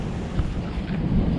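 Thunder rumbles low and steady beneath light rain during a storm over a farm, a continuous deep roll with no voices.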